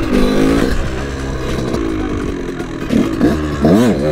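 A KTM motorcycle revs up close for a wheelie, its engine note rising and falling in several sweeping surges with rough, loud mechanical clatter throughout.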